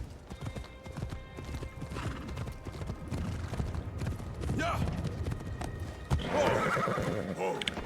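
Hooves clip-clop in a fast galloping rhythm in the video game Assassin's Creed Shadows, followed by a horse neighing near the end, with people talking over it.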